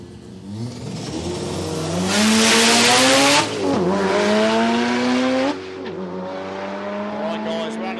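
A drag racing car makes a pass at Palmyra Raceway, its engine roaring loudly as the revs climb through rising gear pitches and then drop away, with a voice talking over part of it.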